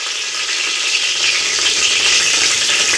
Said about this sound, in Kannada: ಬೆಳ್ಳುಳ್ಳಿ ಕೂಡ ಇವಾಗ ಹಾಕಾಕತ್ತೀನಿ ನೋಡಿರಿ